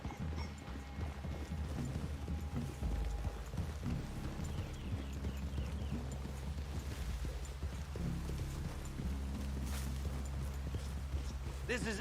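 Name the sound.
horses walking in Red Dead Redemption 2 video game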